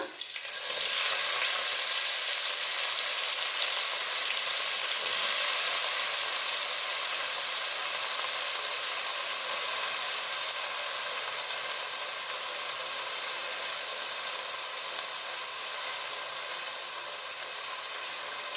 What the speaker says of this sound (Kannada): ಹಸಿ ಬಟಾಣಿ ಆಗಿರೋದ್ರಿಂದ ಎಣ್ಣೆನಲ್ಲಿ ಫ್ರೈ ಮಾಡ್ತಾನೆ ಬೆಂದೋಗುತ್ತೆ